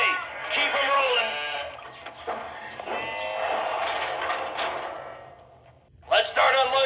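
Sheep bleating sound effect from a Lionel Vision Line Big Boy toy train set, a long wavering bleat played loud and close, followed by a second bleat near the end.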